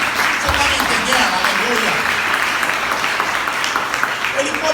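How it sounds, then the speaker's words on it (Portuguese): Congregation clapping in a church service, a continuous crowd of hands applauding with voices speaking and calling out over the top. "dê uma salva de palmas para o Senhor"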